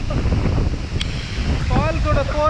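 A large hidden waterfall in the hills near Kodaikanal roars alongside strong gusting wind that buffets the microphone, loud and constant, with brief voices and faint birdsong over the noise.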